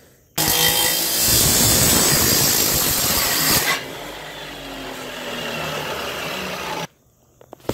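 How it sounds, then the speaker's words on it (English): A chop saw cuts metal stock for engine mounts on a Bobcat build, a loud harsh grinding roar for about three seconds, then a lower whirring spin-down before cutting off abruptly. "set up our chop saw, and get our cuts started"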